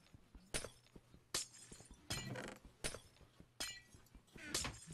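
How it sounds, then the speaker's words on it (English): Glass blocks shatter in Minecraft, a rapid series of six or seven sharp breaking crashes spaced about a second apart, close and clear with no talk. "Break all the glass!"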